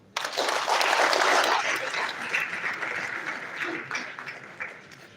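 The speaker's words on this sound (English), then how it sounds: "Let's once again a round of applause for our VC." Audience at a university reward and recognition ceremony breaks into a full round of applause, loud and dense at first, then gradually thinning and tapering off over several seconds.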